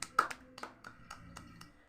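A physical education class gives itself a round of applause in a classroom. Faint, scattered claps land irregularly, roughly half a dozen over two seconds, rather than a full sustained ovation.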